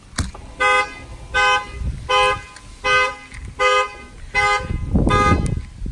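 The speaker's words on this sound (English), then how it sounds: "it will fire off the factory alarm system as well" A factory car alarm, set off by tapping on the glass, blares in repeated pulsing honks at a steady rhythm, loud and nearby, with some background rumble.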